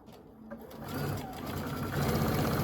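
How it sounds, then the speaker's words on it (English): Sewing machine chain sewing quilt half square triangles, a close, steady mechanical whirring that starts softer and builds into a continuous stitching run. "I am chain sewing and I'm trying to make this chain just keep going"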